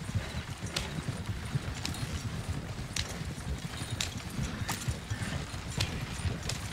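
Horse hooves clip-clop at a steady walking pace in a video game, a regular series of crisp hoof knocks over a low rumbling background, moderately close and without talk.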